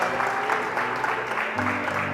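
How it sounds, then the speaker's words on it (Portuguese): A church congregation claps together, a dense, sustained patter of many hands at moderate volume filling the whole moment, with a low organ-like tone entering near the end. "aplauda o Senhor Jesus porque Ele merece toda a honra e toda a glória"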